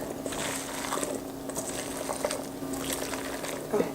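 Meatloaf ingredients squished and mixed by hand in a bowl, giving a steady, close, wet squelching and patter that lasts throughout with no one speaking.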